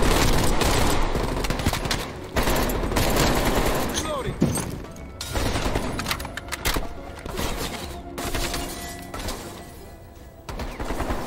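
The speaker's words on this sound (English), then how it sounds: "Get that heavy MG." Heavy machine gun fire in Call of Duty Black Ops Cold War, dense sustained bursts of automatic shooting mixed with other battle gunfire, continuous and loud throughout, with voices talking over it.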